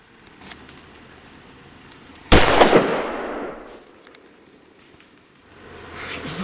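A single loud rifle shot during a red stag hunt in France, a sharp close crack followed by a long fading echo through the forest, with quiet ambience before and after.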